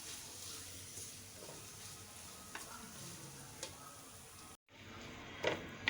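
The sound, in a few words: eggs frying and being stirred in a pan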